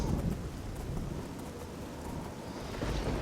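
Heavy, steady rain in the game Oblivion pours down over a swampy area in a dense hiss, with a low rumble underneath like distant thunder; constant and enveloping, no voices.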